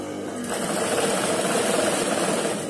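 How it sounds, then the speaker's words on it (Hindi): A sewing machine runs steadily and loudly as it stitches down the reverse side of a shirt while a neck design is sewn. It keeps a fast, even mechanical whir with no talk. "शर्ट की उल्टी साइड पे सिलाई लगाते हुए नीचे तक जाएं"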